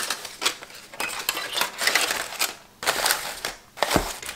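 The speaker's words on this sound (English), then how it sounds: "I'm going to cover this with foil." Aluminium foil crinkles and rustles in bursts as it is pressed over a taco pie dish, with several louder crumpling pulses and a final sharp tap near the end, close and clear with no talking.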